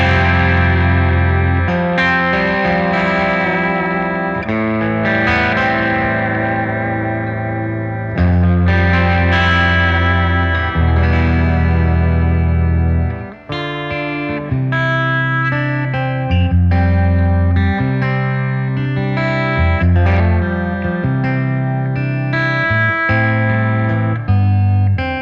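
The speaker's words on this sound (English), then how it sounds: "Add a little bit of reverb to the soup." An overdriven electric guitar with reverb added to the overdrive preamp tone plays ringing chords and melodic lines with lingering tails, loud and steady, with one short dip midway and no talking.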